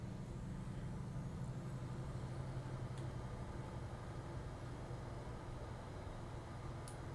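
Airliner thrust reversers after touchdown in a flight simulator, landing at Kai Tak: a low, steady engine roar, fairly faint and unbroken, with no talk.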